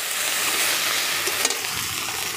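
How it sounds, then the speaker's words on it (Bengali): Spice masala sizzles loudly in a pan while a spoon stirs it, for Bengali prawn malai curry. The frying hiss is dense and continuous and close, with a faint scrape near the middle and no voices. "এটা একটু লাল লাল করে কষিয়ে নেব।"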